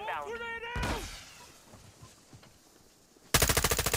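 Gunfire in Call of Duty: Modern Warfare II: a fast, loud burst of automatic shots near the end, after a stretch of excited talk and quieter background game noise.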